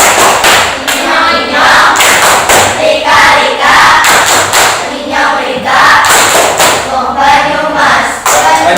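A class claps out the tepuk wong Banyumas rhythm game together, loud and close, with repeated patterned bursts of group clapping and thumps in a steady beat while voices chant along.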